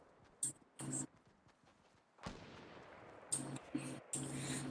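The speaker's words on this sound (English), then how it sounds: "Oh my god, I just heard some gunfire." Several sharp video game gunshot bangs in Fortnite Battle Royale, some in quick pairs, with a louder blast in the middle over a rumbling background; faint, somewhat distant.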